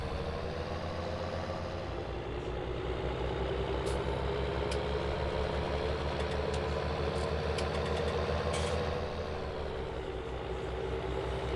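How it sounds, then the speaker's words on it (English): Tractor engines in a farming video game drone steadily at idle with a low, even rumble, and faint clicks of gear changing come through softly in the middle of the stretch. "When I come to a stop here, just listen to the sound of the tractors and what they're after doing."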